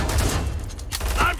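Heavy gunfire in the Killing Floor 2 boss battle against Dr. Hans Volter, a loud, dense barrage of rapid shots filling the whole brief moment.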